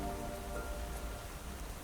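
Rain falls steadily in a dense, even patter on a surface, a soft continuous hiss with no voices.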